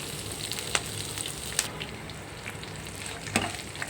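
Cashew nuts frying in oil for raw mango pulihora give a steady, fairly quiet sizzle with a few sharp clicks of a spoon stirring through the pan; no one speaks.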